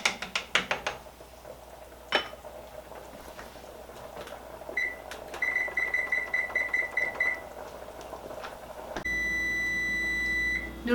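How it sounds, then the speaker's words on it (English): A kitchen timer beeps while noodles cook in a pot of one-pot lasagna soup, giving a run of rapid, evenly spaced electronic beeps and then a longer steady tone, over kitchen clatter and soft hiss. "so go ahead and turn the timer off"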